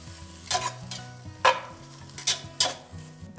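Camp chili being stirred in a pot on a wood stove makes a few spaced scraping, sloshing strokes over a soft bubbling simmer, close and moderately loud, with faint music in the background.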